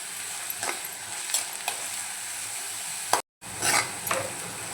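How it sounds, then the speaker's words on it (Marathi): Chopped onions sauté in hot oil in a pan for Malvani-style vangyache bharit, giving a steady bright sizzle with soft scraping stirs, a momentary dropout, then continued frying. "आता आपण कांदे परतवून घेऊया. छान परतवून घ्यायचं आहे."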